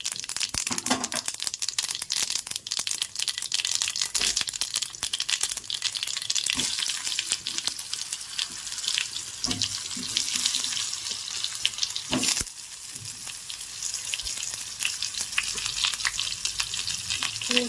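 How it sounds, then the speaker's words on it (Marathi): Steady crackling sizzle of brinjal frying in hot oil, continuous and close, with occasional scraping and stirring noises. "वांगे आपल्या याच्यामध्ये फ्राय करायचे आहे"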